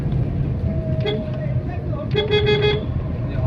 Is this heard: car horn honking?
yes